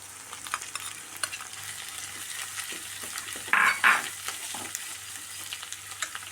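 Eggs being stirred and scrambled in a hot frying pan for a curry with tapioca, giving a steady close sizzle with a spatula scraping and a brief brighter scrape near the middle, no voices.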